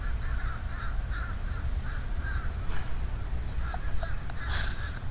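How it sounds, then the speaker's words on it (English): Outdoor crows caw over and over in a steady series of harsh, rhythmic calls at mid distance, with constant low wind or traffic rumble beneath. "Freaking birds."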